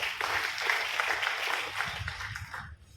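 Audience clapping at a public lecture, a dense sustained burst of hands from a crowd that carries on for nearly three seconds before cutting off, with some voices mixed underneath.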